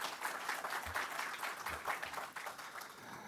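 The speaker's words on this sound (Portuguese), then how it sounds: "a quem eu peço uma salva de palmas das senhoras e dos senhores" A seated audience at a symposium opening breaks into dense, steady applause for a former state governor, many hands clapping together at a moderate distance with a slightly rippling rhythm.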